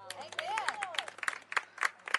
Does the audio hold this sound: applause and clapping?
yes